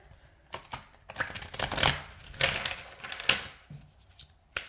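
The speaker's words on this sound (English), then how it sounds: "I'm going to shuffle off screen, and then I'll show you what pops out as I shuffle here" Tarot cards being shuffled: a quick series of faint riffling and flicking bursts, soft and close, with no talking.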